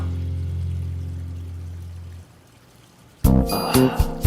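Drinking water is poured into a glass near the end, a brief, close splashing pour that follows a low hum which drops into quiet.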